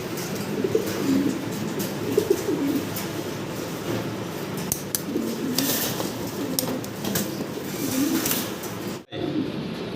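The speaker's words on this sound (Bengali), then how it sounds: "এটা হলো মুন্ডি কবুতর" Mundi fancy pigeons coo in soft, repeated throaty phrases that run through the whole stretch against a dense background of other birds and ambient noise. The sound cuts out sharply for a moment near the end.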